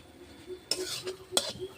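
A spoon stirring gourd leaf paste in a pan on the stove. A few short, scraping strokes sound close and fairly quiet against a faint background, without talk.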